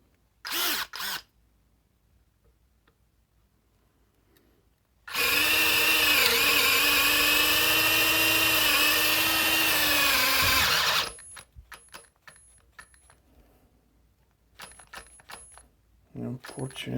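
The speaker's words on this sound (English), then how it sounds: "10mm drill for wood" A Parkside PMBSA 4 A1 cordless drill in second gear bores into wood with a 10mm bit, a loud steady whine lasting about six seconds, bracketed by brief handling clicks and short bursts of speech before and after.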